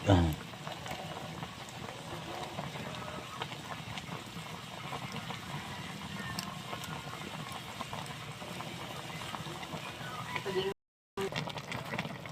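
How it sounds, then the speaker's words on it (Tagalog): Pork bone adobo boiling in a pot over a barrel stove: a continuous, moderately quiet bubbling and simmering that runs steadily for about twelve seconds, broken by one brief gap near the end. "Bukal yun."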